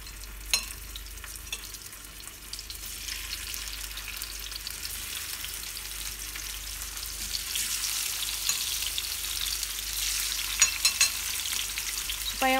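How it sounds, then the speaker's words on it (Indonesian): Tofu and tempeh bacem, already drained, frying over low heat in cooking oil, a steady close crackling sizzle with scattered pops throughout and no talking. "Goreng tahu dan tempe bacem yang sudah ditiriskan"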